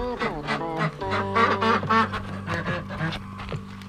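Ducks quack repeatedly at close range in a steady, chattering run of calls, loud and continuous without pause.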